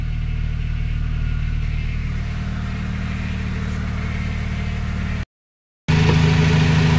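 A Honda Civic FD engine idles steadily while warming up toward operating temperature, a constant low rumble heard close and alone, with a brief cutout near the end before it resumes.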